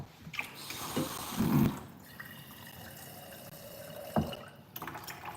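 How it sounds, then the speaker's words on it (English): Small splashes and drips as a little water is poured into a pan of dumplings for steaming, soft and close over a quiet hiss. "Adding a little bit of water to my dumplings so I can steam them."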